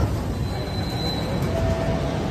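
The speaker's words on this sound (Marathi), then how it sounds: "3 वाजून 11 मिनटांनी मेट्रो आली आहे" A Mumbai Metro Aqua Line 3 train arrives at a station, with a steady low rumble and a couple of thin, high wheel or brake squeals over the din.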